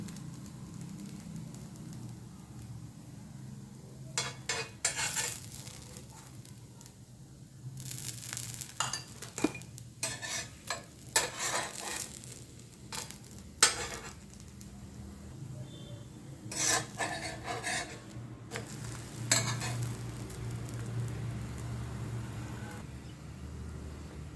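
A breakfast item roasts in ghee on a pan and is flipped, giving a low sizzle under a faint hum. Bursts of spatula scraping and rubbing come and go across the stretch, and no one speaks.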